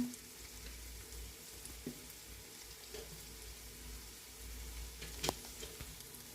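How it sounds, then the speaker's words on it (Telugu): Salt, chili powder and coriander powder fry in a pan for a ridge gourd and prawn curry, giving a faint, steady sizzle with a few soft taps and no voices. "మసాలాలన్నీ 1 నిమిషం పాటు వేయించుకుందాం"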